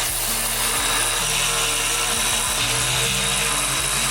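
A power tool whirs loudly and continuously while working strut bolts loose beneath a 2019 Honda Civic Si during a lowering spring install, a dense grinding buzz with shifting pitch and no voices.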